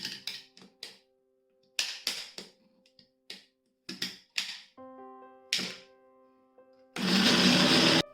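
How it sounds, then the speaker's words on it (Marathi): A mixer grinder grinds ginger, garlic and coconut chutney ingredients in short, repeated pulses with clattering stops between them, ending in a louder, steady grinding burst. "हे सर्व साहित्य आपण मिक्सरवर बारीक करून घेऊया।"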